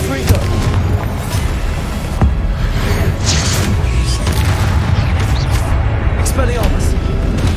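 Confringo blasting-spell explosions in Hogwarts Legacy boom over and over as a loud, dense rumble of impacts, with a voice speaking throughout.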